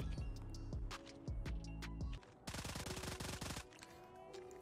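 Rapid bursts of automatic fire from the Fennec submachine gun in the mobile shooter Call of Duty Mobile, several short strings of shots followed by one long sustained burst, loud and close with no talk.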